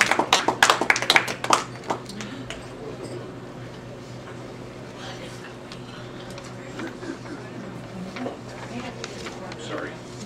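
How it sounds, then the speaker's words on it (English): Audience applause for the main speaker at an evening talk event: a loud burst of clapping in the first second and a half that quickly dies away into room noise and murmuring voices. "Let's give a rousing round of applause for our main speaker tonight, Dr. Ada Cheng."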